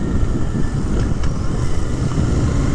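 A 2023 Royal Enfield Continental GT 650 motorcycle engine drones steadily while riding, a loud continuous low rumble with wind noise and no talking.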